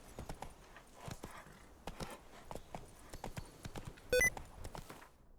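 Hooves of Roach the horse in The Witcher 3, a quiet steady clip-clop walking rhythm of close, regular hoof falls, with a brief bright chime near the end.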